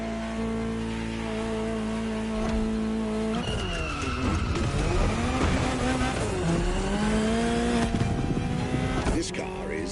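A Ferrari GTO in a racing game revs hard, its engine pitch sweeping up and down through gear changes with tire squeal, loud and close, with someone talking over it.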